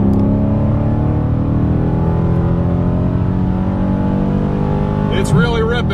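A 2019 Dodge Challenger Scat Pack with the 6.4-liter V8 accelerates hard after a downshift, a loud, steady, rising engine roar that holds for several seconds, with a brief burst of a voice near the end.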